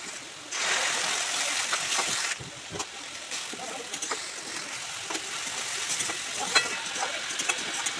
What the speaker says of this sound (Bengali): এদিকে ঝোল বসিয়ে দিয়েছি, এবার মাছ আর ডাঁটাগুলো ভাজা আছে দিয়ে দিচ্ছি